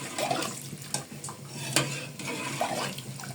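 Rice and milk payesh being stirred in a cooking pot, with soft wet sloshing and occasional light scrapes and clinks of a spoon against the pot, quiet and close.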